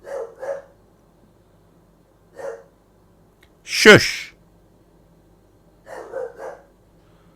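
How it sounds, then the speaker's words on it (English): A pet dog named Millie gives a few short muffled barks at the start, at about two and a half seconds and near the end, with a brief loud hushing voice in between. "Barking at nothing again."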